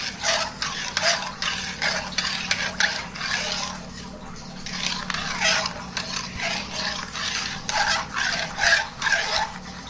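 Cow colostrum kharvas mixture with sugar being stirred in a bowl, a steady, close scraping and swishing that rises and falls in repeated strokes over the full stretch, with no voices.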